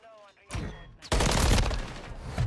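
Call of Duty MW3 gunfire in a ranked Search and Destroy match, a loud close burst of rapid shots that swells into dense sustained firing, with a voice talking briefly before it.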